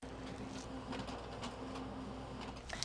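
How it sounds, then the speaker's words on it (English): An office printer running off loan closing documents, a quiet steady mechanical whir with soft repeated feed clicks and a small clack at the end, close by with no talk. "once the docs are finished printing, I go ahead and just flip through them all really quick"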